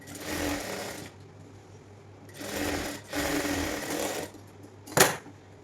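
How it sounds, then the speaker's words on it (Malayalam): A sewing machine runs in three bursts of rapid stitching as decorative rows are sewn along the neckline of a nightdress, with short pauses between runs and a sharp clack at the end. "ഇനി നമുക്ക് നെക്കിലൊന്ന് ജസ്റ്റ് ഒരു 2-3 അടുപ്പും കൂടെ അടിച്ചു കൊടുക്കാം ഒരു ഭംഗിക്ക് വേണ്ടിയിട്ട്."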